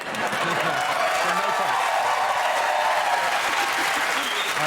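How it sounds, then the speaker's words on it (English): A television studio audience at a Christmas comedy quiz show gives a sustained, dense round of applause, steady and loud throughout, with faint voices underneath. "at least let me get the round of applause"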